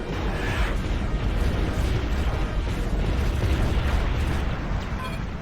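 Torpedo explosions from a space combat video game, Wing Commander Saga: a continuous, loud, rumbling roar of blasts and booms filling the whole stretch with no pauses and no talk.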